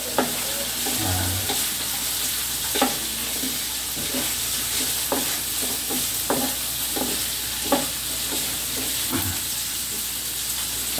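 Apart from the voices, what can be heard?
frying whole garlic for dry atchara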